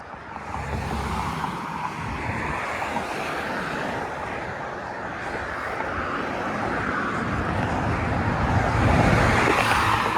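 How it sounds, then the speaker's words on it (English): A city bus passes along Dundas Street East in Mississauga's Cooksville neighbourhood, a steady broadband roar of road traffic that swells louder toward the end as it goes by close. "that would have been my bus if I had started earlier"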